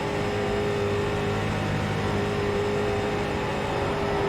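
Street stock car engine droning steadily at Charlotte in the iRacing sim, a continuous loud hum with a constant whine and no clear revving changes, heard alone without talk.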